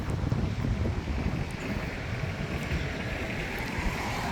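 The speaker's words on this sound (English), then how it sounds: "It's a bit windy here, I'm not sure if you guys can hear me." Heavy wind buffeting a microphone while out riding a Honda Rebel 1100 motorcycle, a constant low rumbling roar with gusty fluctuations and no clear talk over it.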